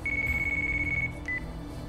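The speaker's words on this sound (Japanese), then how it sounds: "電話鳴ってます。" A phone ringing in the Yakuza Kiwami video game, a thin electronic tone held for about a second, a short pause, then a brief second burst over quiet game ambience.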